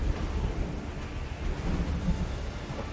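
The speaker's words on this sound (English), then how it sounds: "Oh god, now it's a storm." Thunderstorm in the naval video game King of Seas, a steady low rumble of thunder with rain and wind filling the whole stretch at moderate loudness, no voices.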